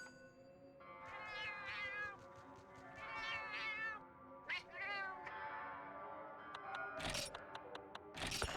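In the video game Monster Hunter, a cat chef gives a run of high, clear meows in several short bursts over soft game background sound, followed by a couple of bright chime-like clicks near the end.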